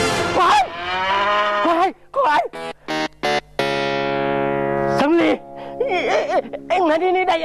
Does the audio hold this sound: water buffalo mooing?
yes